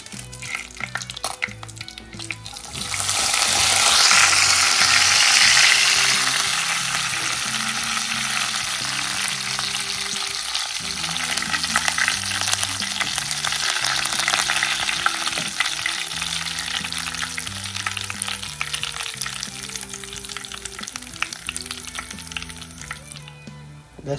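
Curry leaves frying in hot oil for a prawn curry, a loud crackling sizzle that flares up after a few seconds and then settles into a steady fry for a long stretch.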